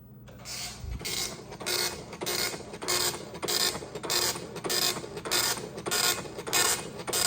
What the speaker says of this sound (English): that ribbon is completely dry, but the printer works